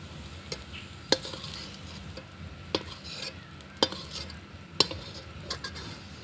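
Deep-fried onions for biryani sizzle in a pan while a metal spatula stirs and scrapes, sharp clinks striking the pan several times at irregular intervals over a soft, continuous fry.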